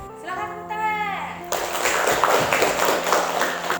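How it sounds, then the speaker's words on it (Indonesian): Students in a classroom break into a dense burst of clapping that lasts a few seconds, coming right after a teacher speaks. "Silakan tepuk tangan."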